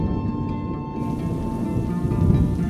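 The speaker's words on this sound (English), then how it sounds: "It's raining tonight too, and it was raining that night." Steady rain falling at night, a continuous dense hiss with a low rumbling undertone that swells slightly toward the end.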